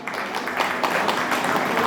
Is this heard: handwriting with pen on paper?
no